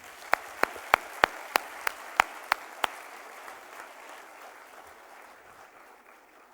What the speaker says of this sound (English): A huge round of applause for Shambhavi.